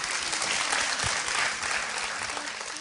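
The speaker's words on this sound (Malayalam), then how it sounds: "അപ്പൊ നമുക്ക് ഇവർക്കൊരു ക്ലാപ്പ് കൊടുക്കാം അല്ലേ?" Applause from a studio audience on the set of a televised junior dance competition, a steady dense clapping that fills the short moment on its own.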